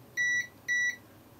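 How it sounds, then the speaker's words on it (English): Two short, clean electronic beeps from a multimeter in continuity mode, evenly spaced, each lasting about a quarter second, close and clear against faint background hiss. "meter in continuity mode again. How are we looking? Beeps."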